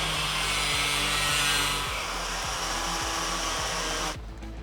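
An angle grinder trims plastic on a Polaris Xpedition, a loud, steady whining drone held close for several seconds before it cuts off abruptly near the end.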